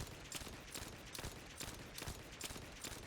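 A hand cannon fired at a firing range in The First Descendant, a quick series of shots at a steady rhythm, faint and distant in the mix.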